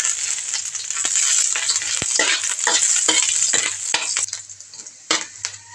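Ginger frying in coconut milk until golden brown as a batch of laing cooks, with a steady bright sizzle and repeated scraping stirs of a utensil against the pan, close and loud, with no voices.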